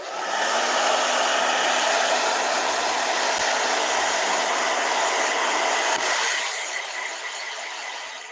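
A blow dryer runs steadily up close with a loud, breathy whoosh and a faint whine, holding constant for several seconds before easing slightly toward the end.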